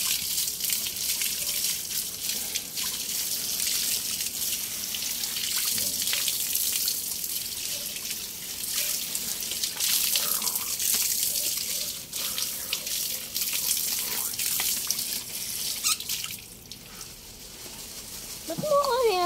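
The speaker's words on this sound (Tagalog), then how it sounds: "Una, syempre, huhugasan natin ng maayos." Ingredients being washed under a running kitchen tap, a steady close hiss of flowing water with splashes throughout while people talk over it.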